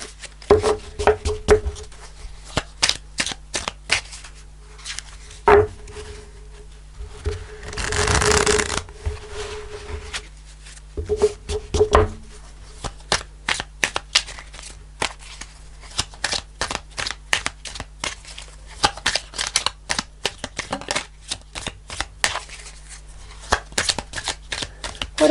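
Tarot cards are shuffled by hand, close up, in repeated bursts of soft riffling and sharp taps across the whole stretch, with one longer smooth swishing slide in the middle and a faint steady hum underneath.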